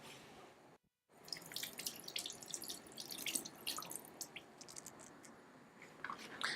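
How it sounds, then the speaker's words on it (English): Cold tap water runs steadily over a cucumber being washed under a kitchen faucet, with splashing and dripping textures shifting as the vegetable is turned, briefly cutting out near the start before resuming. "We're gonna wash the cucumber under cold running water."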